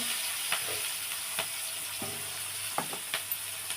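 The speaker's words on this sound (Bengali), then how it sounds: "এটা ব্রাউন ব্রাউন হয়ে এসছে দেখো, আর একটু ভাজা হতে হবে" Food browning in a hot pan makes a steady, moderate sizzle, with small stirring taps and scrapes every half second or so during a brief stretch without voices.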